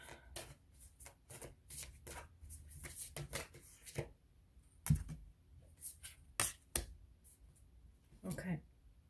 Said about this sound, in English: I'm going to continue to shuffle